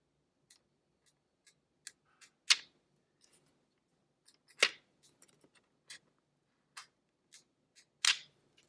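Scissors cut through paper flipbook pages in sparse, crisp snips close by, with a few louder slicing strokes and small ticking clicks between them, and no voices.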